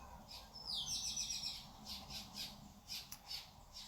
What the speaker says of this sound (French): j'entends un merle derrière